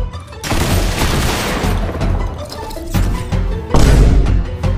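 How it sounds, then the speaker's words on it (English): Shotgun blasts in Fortnite: a few loud, booming shots with crashing, chaotic game effects between them, dense and close, ending on a heavy final blast. "My best option is to try and kill Midas with my shotgun and use the rift to get away from guff"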